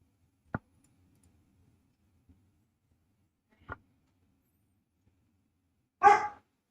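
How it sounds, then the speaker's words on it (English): One short dog bark comes near the end, after a few isolated faint clicks in an otherwise quiet room. "why is he barking now?"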